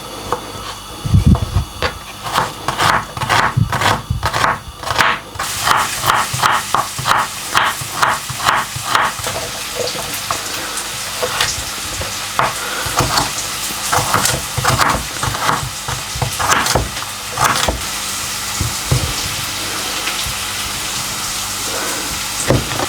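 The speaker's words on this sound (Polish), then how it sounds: "Cebulkę zesmażę razem z marchewką." Onion and carrot frying together in a pan, a steady loud sizzle and hiss with scattered crackles and a few sharper clatters, no talking.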